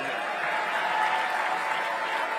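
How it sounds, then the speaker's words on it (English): A crowd claps steadily, a dense wash of applause at moderate volume that holds evenly from start to finish. "Give John a round of applause"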